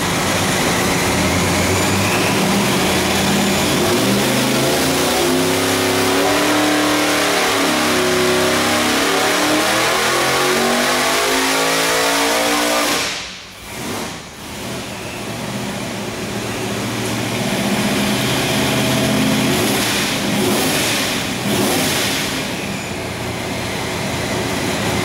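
A boosted engine fitted with a Holley Sniper 8-injector EFI system runs loud and close, its revs climbing and surging, briefly dropping off midway, then roaring back at full volume.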